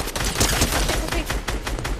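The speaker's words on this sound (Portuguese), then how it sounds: "Nossa, um tiro ali." Rapid gunfire crackles in a competitive trio cash-cup video game match, with dense, overlapping shots in quick succession across two seconds.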